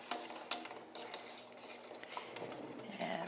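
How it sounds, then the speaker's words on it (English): Spoon scraping and clinking against a pot while bread pudding mixture is stirred, a steady busy run of metallic taps and swishes at moderate volume with no talking. "Now we're just going to keep stirring."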